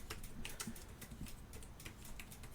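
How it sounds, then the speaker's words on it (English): Keys on a computer keyboard are typed in a rapid, uneven patter of small clicks, close and quiet over a steady background hiss, with no talking. "we type in gold"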